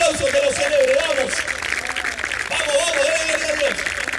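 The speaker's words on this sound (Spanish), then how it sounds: "Alguien que le dé un fuerte aplauso, que lo celebre" A church congregation applauds at length, producing dense, steady clapping with voices and cheering mixed in that rise and fall in a melodic way.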